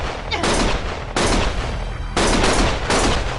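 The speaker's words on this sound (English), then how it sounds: "Stop shooting!" Heavy, continuous gunfire in the game Lost Judgment, coming in three loud sustained bursts separated by brief gaps, dense and close.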